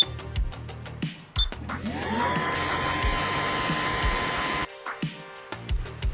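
3D printer starting a miniature print: soft clicks and whirs, then a few seconds of steady whining motor hum and rising pitch, ending with faint ticking and tapping.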